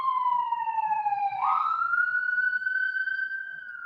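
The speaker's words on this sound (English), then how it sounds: "Ambulance this time, not the cops." Ambulance siren sweeping past on a Milwaukee street, a clear wailing tone that dips then rises sharply as it passes, heard from a room nearby with no talking.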